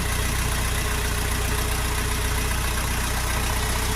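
A Dongfeng 404 G2 tractor engine runs steadily and loudly, a continuous low chugging drone with no pauses or voices.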